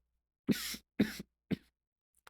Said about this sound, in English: As you can see, I still have a little bit of cough.